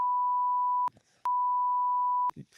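Two steady, loud electronic censor bleeps at one pitch, each about a second long, separated by brief gaps with faint muffled sound.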